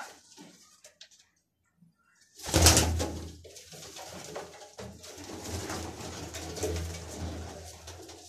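Pigeons, red-headed racing birds and a Teddy cross kept by a flier, coo in a steady low murmur close by after a quiet opening, the throaty rolling calls continuing alone.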